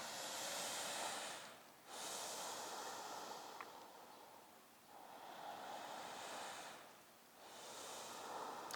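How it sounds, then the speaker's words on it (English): Slow, deep breathing during a seated stretch, long airy inhales and exhales in a steady rhythm of about four breaths, soft and close with no talk over it. "Let's take 2 or 3 deep breaths."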